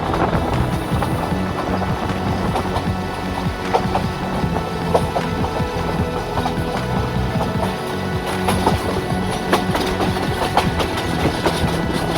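At Chittagong railway station, a train rumbles in a steady, rough wash of noise mixed with wind buffeting and scattered clanks over about twelve seconds.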